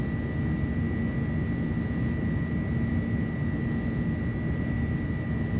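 Airbus A300 jet engines roaring steadily during the takeoff roll and rotation, a loud continuous broadband rumble with a sustained high whine, heard from inside the cockpit without a break.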